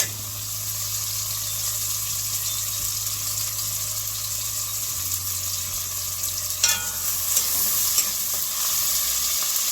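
Saltfish frying in a pan with onion, tomato, Scotch bonnet pepper and scallion, a loud, steady, close sizzle with a low background hum and a few stirring clatters near the end.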